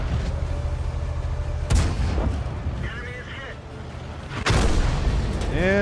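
Artillery shells slam into a tank in World of Tanks, two sharp booming impacts a few seconds apart over a steady engine rumble, with faint battle noise between them.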